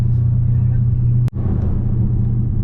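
A car pulls hard out of a turn, a steady low engine drone with a brief dropout midway, then the rumble carries on close and loud inside the cabin.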